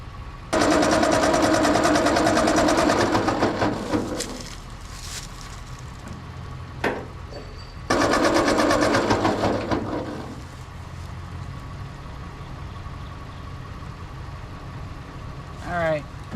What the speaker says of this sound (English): That tractor needs carb work